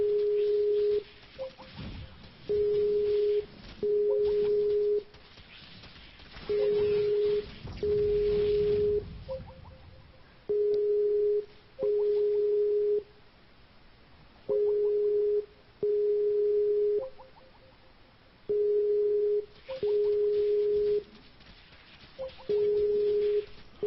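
A telephone on-hold tone plays a steady pulsed beep, with regular short tones separated by brief gaps repeating for a long stretch under faint background noise.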